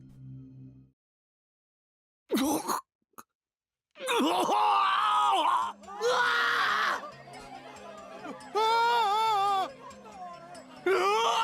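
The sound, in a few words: crowd of students screaming in Chaos;Child video game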